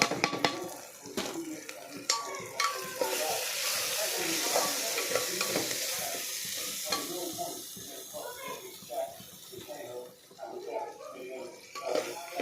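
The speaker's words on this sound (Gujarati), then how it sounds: "એને આપણે 2 મિનિટ માટે સતળવા દઈશું।" Chilli powder, coriander-cumin powder, garam masala and turmeric sautéing in hot oil for a potato curry, a soft hissing sizzle with occasional spoon scrapes and clinks against the pot, close but fairly quiet.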